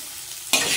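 Pointed gourd, potato and tomato with turmeric and chilli powder fry in a pan, a low hiss that jumps to a bright, close sizzle as the pieces are stirred.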